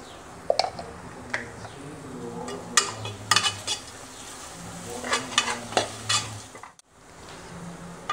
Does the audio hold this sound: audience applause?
no